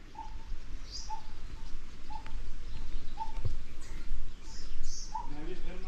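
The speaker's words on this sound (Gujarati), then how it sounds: "આજુબાજુ પક્ષીઓનો કલશોર" Birds call around a forest temple in cool, quiet woodland, with a soft repeated cooing note about once a second and a few higher chirps over a low steady background hum, moderately near.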